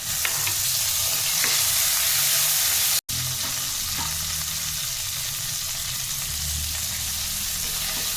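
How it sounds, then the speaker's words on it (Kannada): Tomato and onion fry in a pan, making a continuous loud sizzle with occasional stirring scrapes and one brief dropout. "ಈ ಟೊಮೊಟೊ ಚೆನ್ನಾಗಿದೆ, ಸ್ವಲ್ಪ ಫ್ರೈ ಆಗಬೇಕು"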